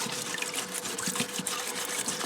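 A self-contained, non-electric parts washer runs cleaner fluid over treadle machine parts: continuous close trickling and splashing liquid with small bubbling irregularities, fairly loud and steady, without speech.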